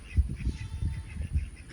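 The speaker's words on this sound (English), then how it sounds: "There's too much racket out here at these ducks" Ducks quacking outdoors near a chicken coop after a flood, a faint jumble of low, rhythmic quacks repeating irregularly at some distance.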